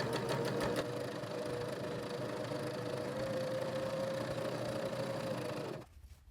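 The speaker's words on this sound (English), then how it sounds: "I'm just going to stitch all the way across just to reinforce that seam" A sewing machine runs in one steady, fast continuous burst as it stitches straight across to reinforce a seam on a fabric tote bag, stopping abruptly at the end.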